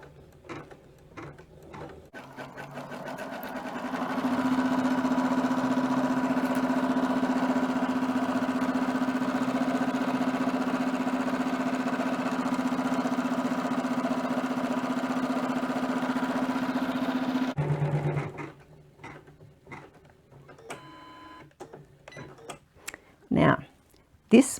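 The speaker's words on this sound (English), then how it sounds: "Now I'm going to start sewing, and the machine is going to sew the square that goes around the outside." An embroidery sewing machine stitching a square outline, a steady mechanical whirring hum with a rhythmic ticking needle that runs for about thirteen seconds, framed by someone speaking before and after.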